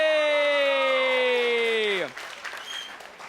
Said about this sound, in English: A round of applause for Kevin Magri.